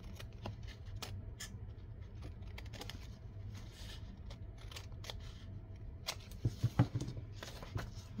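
Scissors snip through paper for a handmade junk journal, a series of quiet crisp cuts that bunch into a quicker cluster of louder snips near the end, with no talking.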